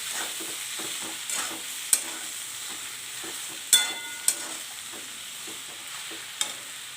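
Boiled peas mixed into samosa filling in a pan, with soft stirring over a low sizzle and a few sharp clinks of a spatula against the pan, close and quiet with no talking.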